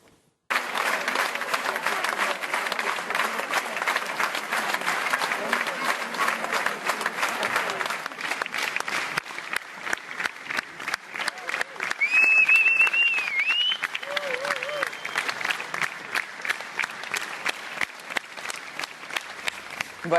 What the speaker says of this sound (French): Allons au Théâtre de Bastia écouter des applaudissements et des cris de joie.